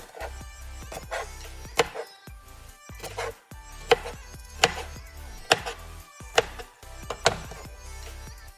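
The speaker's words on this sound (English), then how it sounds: "I have a few more green olives that I'm going to cut up in halves like this" A knife chops green olives into halves on a cutting board while pizza toppings are prepared, giving about eight sharp, evenly spaced blade strikes close up with quieter handling between them.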